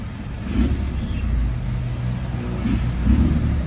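The stock 2.4 MIVEC engine of a remapped Mitsubishi Triton pickup revs close by, a deep continuous rumble that swells and eases across a few seconds, alone without talk.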